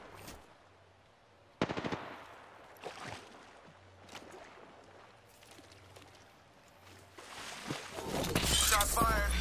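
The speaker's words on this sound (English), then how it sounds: "Shot fired." Gunfire in a sniper-focused video game: a few sharp, sudden shots ring out amid quieter game ambience, with a player talking over the action.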